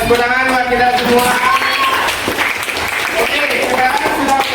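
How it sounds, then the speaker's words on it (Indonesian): Group applause in a classroom, a dense patter of clapping mixed with children's voices and chatter throughout, steady and close for a few seconds. "Tepuk tangan buat kita semua"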